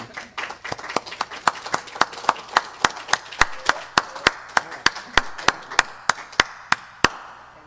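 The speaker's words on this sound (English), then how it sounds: "I really want us to give a big round of applause to them" A Sunday service congregation claps in unison, a steady, evenly spaced series of sharp, crisp claps, about three per second, moderately loud over a quiet room.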